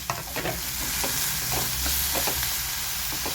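Tomatoes fry in a pan while being stirred, making a continuous close sizzle broken by scraping, clattering strokes of the spoon at an uneven rhythm.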